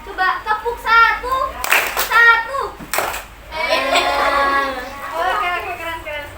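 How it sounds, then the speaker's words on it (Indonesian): A group of children clap once in unison during a classroom health lesson on head lice, a single sharp burst set amid nearby children's chatter and an adult voice talking. "Coba tepuk satu."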